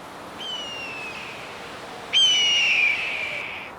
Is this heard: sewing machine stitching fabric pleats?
no